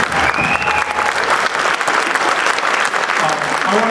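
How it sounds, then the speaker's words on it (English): An audience applauds a high school wind ensemble at a Yuletide band concert, a dense, steady wash of clapping that fills the whole stretch, with a few voices and cheers mixed in toward the end. "One more applause for them."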